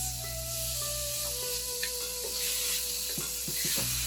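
Beef strips for lomo saltado sizzle steadily in a hot pan, with scraping stirring strokes and soft clinks scattered through the continuous hiss, alongside a constant low background hum.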